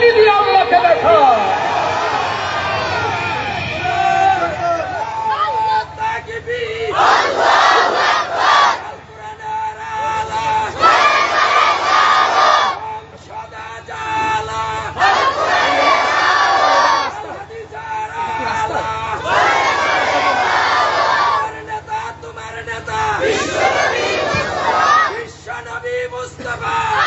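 Large religious gathering shouting the takbir, Allahu Akbar, in repeated loud collective bursts from many voices, each surge lasting a couple of seconds and separated by brief lulls, with a lead voice calling between them.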